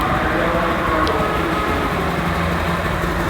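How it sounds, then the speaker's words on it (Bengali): A GPX Demon 165 RR motorcycle engine idles close by after being started, a steady loud running drone with no talk over it. "বাইকটা কিন্তু স্টার্ট করা হয়েছে। এবার আপনারা বাইকের সাউন্ডটা শুনতে পারবেন।"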